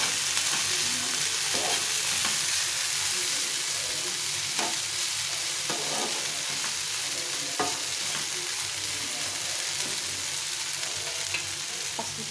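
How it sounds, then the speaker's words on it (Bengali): Onions fry lightly in a pan, giving a steady, even sizzle up close with scattered soft taps and scrapes from stirring throughout. "এরপর আমি পেঁয়াজটা দিয়ে দেবো। একটু হালকা হালকা করে ভেজে নিতে হবে।"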